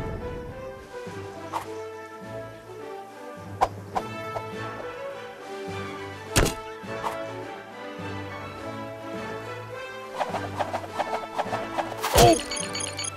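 Sharp impact hits from the mobile game Bowmasters, with a headshot strike among several loud whacks and thwacks over layered game music and effects, the biggest burst arriving near the end.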